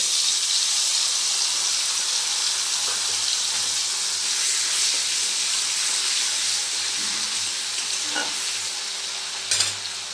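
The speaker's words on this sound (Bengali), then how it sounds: "কালো জিরেটা যখন ভাজা ভাজা হয়ে যাবে তখন দিয়ে দেব বেটে রাখা কাঁচা লঙ্কা এবং" Black cumin frying in hot oil for Bengali mustard hilsa, just before green chilli and mustard paste go in, gives a steady, close, loud sizzle throughout with a faint clink near the end and no talking.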